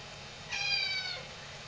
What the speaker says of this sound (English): Say kitty cat's visiting.